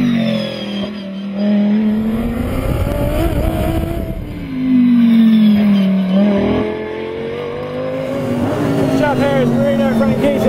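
An Audi R8 race car circles the Blyton Park circuit, its engine loud and close, rising and falling through gear changes over about ten seconds with a brief dip and a sharp rev near the end.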